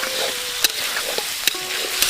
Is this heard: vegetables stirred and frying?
yes